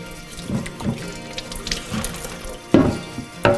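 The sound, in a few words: water running from tap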